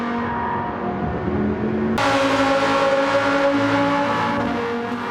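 Lamborghini Gallardo V10 with a full racing exhaust in Gran Turismo 7, loud and howling at high revs, with a sharp jump in intensity partway through and a sustained roar after.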